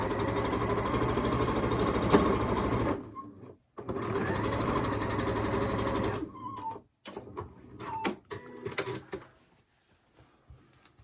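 A sewing machine runs in two sustained bursts, stitching a quarter-inch seam on a quilt block, then stops for quieter handling clicks and fabric rustles nearby.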